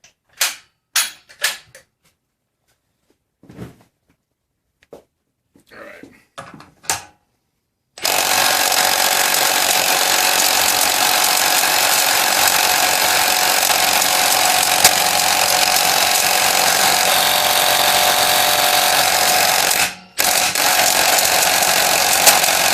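A Makita XDT08 brushless impact driver drives a lag bolt, starting with short bursts of hammering, then a long continuous loud rattling impact that pauses briefly before resuming.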